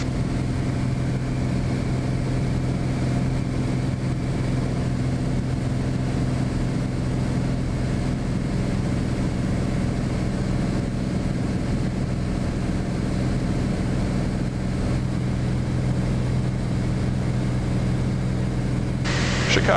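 A Bonanza's piston engine drones steadily at 22 inches manifold pressure in flight, a constant, even cabin hum with no change in pitch or level, and no talk over it.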